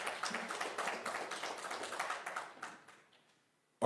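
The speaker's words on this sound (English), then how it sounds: "let's give Mr. Moses a round of applause" Conference audience applauding a speaker, a dense burst of clapping that holds steady for a few seconds then tapers off, fairly distant in a large hall.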